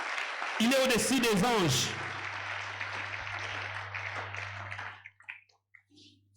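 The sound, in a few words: congregation applauding and acclaiming Jesus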